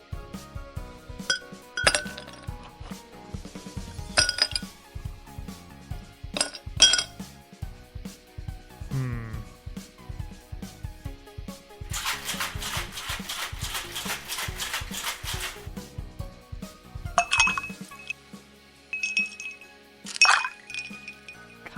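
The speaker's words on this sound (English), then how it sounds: "Ice into glass, then pouring water." Ice cubes clinking and dropping into a glass in several sharp bursts, followed by a stretch of water pouring, then more scattered clinks of ice against glass.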